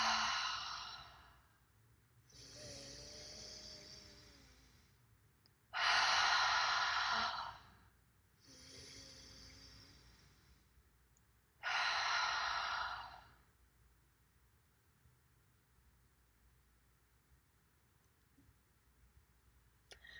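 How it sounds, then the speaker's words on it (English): Deep inhales and open-mouth exhales during a breathing exercise, five slow breaths with long pauses between them, close and fairly quiet with no talking. "Deep inhale, open mouth, exhale, let it go."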